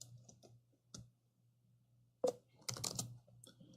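Keys on a computer keyboard are tapped to type a terminal command: a few sparse, quiet clicks and a short cluster of quicker keystrokes over a faint steady hum.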